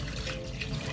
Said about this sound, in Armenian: on rajoute un bol d'eau